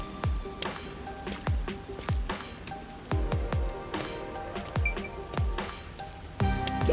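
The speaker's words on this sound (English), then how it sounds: "Hey, isn't it weird how it's not flooded, given how it's always raining here?" Steady rain falling over a city street in the video game Rain Code, with a dense patter of drops and repeated heavier splats and drips landing close by, loud and continuous without any voices.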